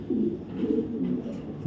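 A young female racing pigeon coos close by: a few soft, low, rolling coos run together over under two seconds, with no other sound.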